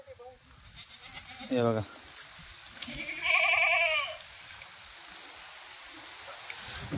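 Goats on a farm let out two distinct bleats, a short one and then a longer wavering one, over low background noise while someone talks briefly nearby.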